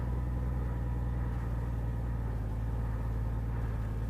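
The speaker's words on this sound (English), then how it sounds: "Now see I'm slipping the clutch. Hear this?" A big motorcycle crawls at low speed with the clutch slipping, its engine a steady, deep, loud rumble with no revving swings or talk.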